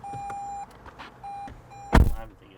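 A car's alarm chimes while the vehicle is in reverse: a steady electronic tone repeating in short on-off bursts, followed by a louder thunk near the end, with no talk.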